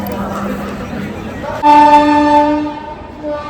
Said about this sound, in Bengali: ওদের ট্রেনটা জাস্ট এখন এসে ঢুকেছে